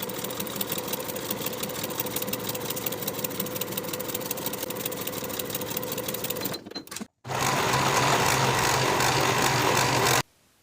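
A sewing machine stitches kite pants pocket pieces together in a long steady run, pauses briefly, then buzzes through a second shorter burst before stopping.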